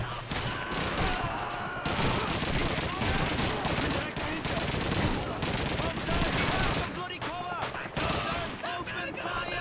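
Dense, sustained gunfire from Call of Duty 2: rapid machine-gun bursts and overlapping rifle shots fill the whole stretch, loud and continuous, with a voice faintly talking underneath.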